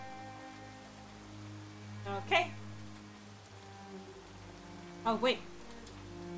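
Rain falls as a steady, soft hiss in the Shadowrun Hong Kong video game, continuing under brief spoken remarks.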